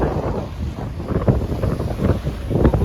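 Sea waves crash and splash against the shore at Bhadkeshwar Mahadev temple in Dwarka, a continuous loud roar heavily mixed with strong wind buffeting the microphone.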